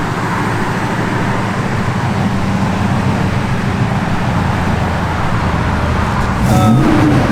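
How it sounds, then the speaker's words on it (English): A small-block Chevy V8 in a 1966 Chevrolet C10 pickup idles with a deep, steady rumble throughout, then revs up briefly near the end; no talking. "Just good running small block Chevy, man."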